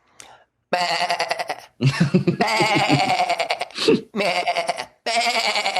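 A voice imitates sheep bleating in several loud, wavering baa calls in quick succession, each bleat quivering and nasal, with short gaps between them.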